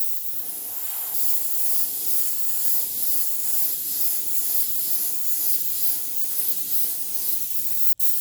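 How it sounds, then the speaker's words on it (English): Steady airy hiss of spray paint coating a vinyl-wrapped tumbler, running continuously for several seconds, close by, with a brief sharp click near the end. "Now we're ready to spray."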